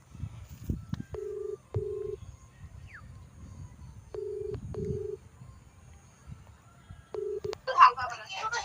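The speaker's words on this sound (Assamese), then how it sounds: "লাগিছে ফোনটো" A mobile phone call is placed: steady ringback tones repeat in spaced pairs, with low background murmur between them, and a burst of speech near the end.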